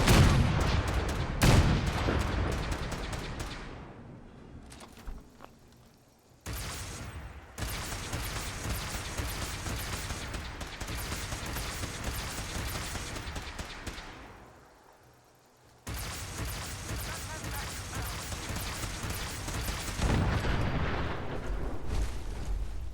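Gunner vertibird fight in Fallout 4 with a mini nuke, loud explosive blasts and sustained gunfire in long roaring bursts separated by brief lulls.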